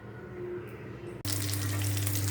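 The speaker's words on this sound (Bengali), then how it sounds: "আমার মাছটা ভাজা হয়ে গেছে" Fish fries in a pan, a quiet bubbling hiss that suddenly jumps to a loud, dense sizzle halfway through, as if the fish has just gone into the hot oil, then stays steady.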